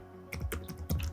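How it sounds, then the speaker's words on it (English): A few quick keystrokes sound on a computer keyboard while Java code is being typed, with two or three brief clusters of clicks over a low background hum. "And now we will type here"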